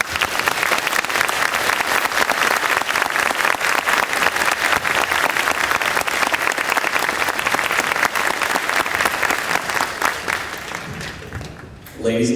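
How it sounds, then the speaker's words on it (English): An audience applauds steadily at an infantry regiment graduation ceremony, giving a dense, sustained clapping that fills the space for about eleven seconds before tapering off. "please join us in giving these fine soldiers a round of applause"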